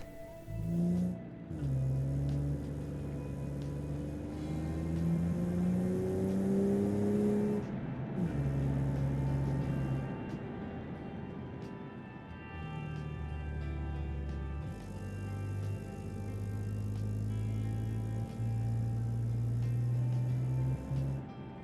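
A Riocatto car accelerates uphill through a city in the Automation game, its engine droning steadily and rising through the gears with brief shift dips, loud and continuous with no talk.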